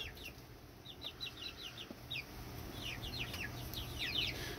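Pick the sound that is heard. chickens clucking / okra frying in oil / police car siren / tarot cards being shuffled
chickens clucking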